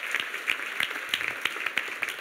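Applause from a church congregation during a sermon, a moderate wash of clapping with scattered sharper individual claps standing out, steady through the short stretch without any talk over it.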